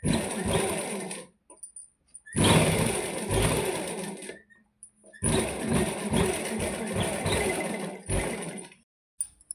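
A sewing machine stitches a salwar in three long, loud, steady runs of rapid needle clatter, separated by short silent pauses and a brief final burst.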